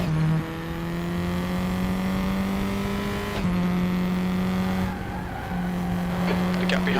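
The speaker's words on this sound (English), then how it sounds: "Love the tyre sounds! I just love them, they're so dynamic!" Tyre squeal and engine drone from cars in the racing sim game RaceRoom, a sustained tonal whine shifting pitch with brief breaks, loud and continuous throughout.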